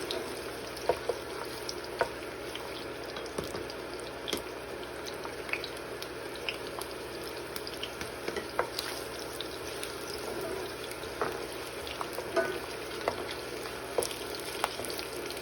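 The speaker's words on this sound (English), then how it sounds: "I'm going to add my onions. And I'm just going to mix this." Onions fry in a pan for Liberian fried okra, a faint steady sizzle with light crackles and occasional soft mixing taps, no voices.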